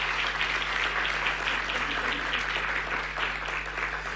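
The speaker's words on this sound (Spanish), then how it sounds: "yo les pido un aplauso" Sustained applause from a crowd at a Chilean Ministry of Justice public accounts ceremony, steady and dense for several seconds over a low constant hum.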